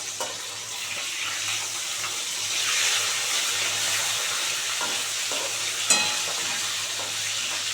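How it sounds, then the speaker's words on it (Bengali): Tilapia fish frying crisp in hot oil, a loud continuous close sizzle with occasional stirring scrapes and a sharp metallic clink near the end. "একদম কড়া করে ভেজে নেব"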